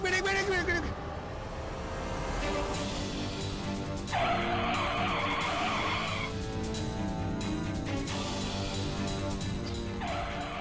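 A car skids with its brakes failing, loud tire squeal and engine roar filling the whole stretch, with a sharper screech in the middle, set in a dramatic TV scene.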